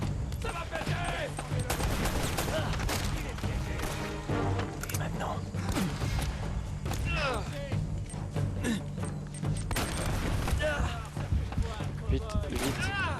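Gunfire in the Uncharted action video game, dense rapid bursts of shots and impacts filling the whole stretch loudly, with a player talking over the combat.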